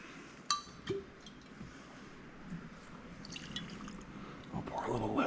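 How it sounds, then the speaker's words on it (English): Kentucky straight bourbon whiskey is poured into a Glencairn glass: a few sharp glass clinks, then a soft trickle of liquid, with faint room noise and a voice murmuring quietly. "I'll pour a little less this time."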